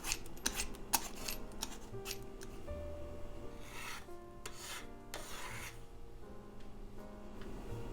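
A butternut squash being peeled, giving close, quiet rasping strokes that repeat in short bursts with brief pauses between them.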